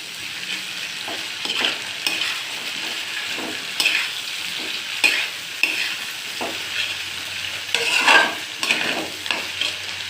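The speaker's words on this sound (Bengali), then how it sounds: "আর এটা একটু ভালোভাবে কষিয়ে নেব।" Ginger and green chili paste stir-fried with salt and turmeric in a pan for chicken curry gives a steady, close sizzle. Repeated scraping stir strokes run through it, with no talking.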